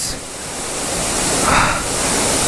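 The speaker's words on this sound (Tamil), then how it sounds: "wonderful water falls" Steady broadband rush of water pouring down at Odugathur Falls, a continuous close wash of falling spray with no speech and a slight swell midway.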